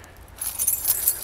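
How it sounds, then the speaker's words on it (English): A ring of keys dropped outdoors, a bright metallic jangle and clink that starts after a quiet moment and rattles briefly before settling. "Oops, sorry, dropped my keys."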